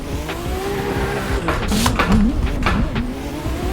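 Drift car in the racing sim Assetto Corsa, its engine droning steadily with rising revs and sharp tire squeals and skids in the middle, loud and close, with no talking.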